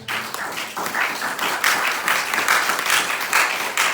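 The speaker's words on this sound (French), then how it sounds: "Acclame Jésus parce qu'il te voit." Church congregation applauding in a French-language service, a steady dense wash of clapping that swells and holds at close range throughout.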